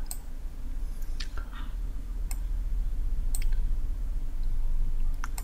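A computer mouse clicks during AutoCAD work, a handful of sharp, isolated clicks spaced about a second apart over a steady low room hum, close and fairly quiet with no talking.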